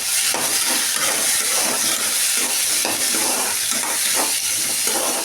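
Small shallots sautéing in a pan for a chicken fry, a steady broadband sizzle with soft stirring scrapes running continuously and close throughout.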